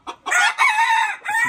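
A rooster crows loudly and close on a farm, one full cock-a-doodle-doo call with a short clucking note at the end.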